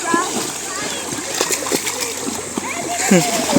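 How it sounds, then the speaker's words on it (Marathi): Several people jump into a shallow river stream in the Konkan, with repeated splashes, close and loud, while children shout and talk over the water. "सगळे पाण्यात उडी मारत आहेत"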